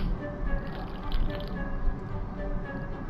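Drinking from a can in the Roblox video game Escape Prison Obby: a continuous wet gulping and sloshing liquid sound, steady and fairly close, with no one talking.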